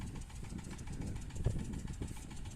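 A Shifeng tractor engine pulls a plough with a skimmer through wet clay, a steady low rumble with a faint knocking pulse, continuous and moderately distant.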